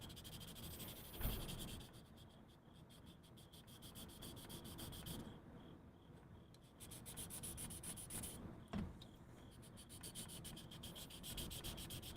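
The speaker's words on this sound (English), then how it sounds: "So I'm using the rough sandpaper because I put this heavy duty glue here that's not coming off." Rough sandpaper scrubbing at stubborn heavy-duty glue, a steady close abrasive rasping with repeated strokes and a couple of sharper knocks, with no talk.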